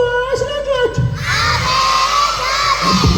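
A crowd of kindergarten children shouting loudly together in a hall at a graduation ceremony, a sustained, energetic group yell that swells after a brief start and carries on strongly.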